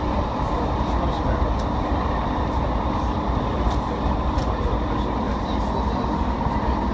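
Steady loud rumble of a train running on rails, a continuous dense roar with faint clicks, heard from close by without any talking.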